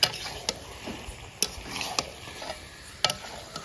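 Chicken pieces go into hot oil and spiced masala in a pan, giving a low steady sizzle broken by sharp scrapes and clinks of a spoon stirring against the metal pan.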